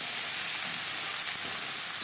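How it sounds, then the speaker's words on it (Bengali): Ridge gourd, potatoes and spices stirred together in a hot pan, with a steady, close sizzling hiss of frying that continues without a break and no talking. "আলু ও মশলার সাথে ঝিঙে বেশ ভালো করে মিক্স করে দেবো।"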